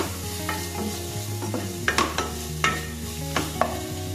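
Onion mixture with fennel powder sautés in a pan over a soft, steady sizzle, while a spoon scrapes and clinks against the metal several times in uneven strokes, close by and without talk.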